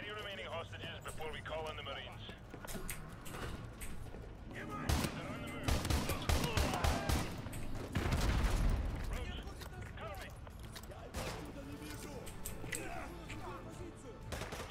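Bursts of gunfire in the Modern Warfare 2 Remastered campaign ring out in rapid volleys, loudest in the middle, mixed with game effects and someone talking over the action.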